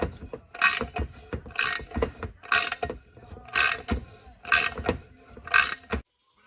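A 1/2 wrench turning a thread tap into a motorcycle oil pan, six evenly spaced ratcheting, scraping metal bursts about a second apart, close and clear, then silence.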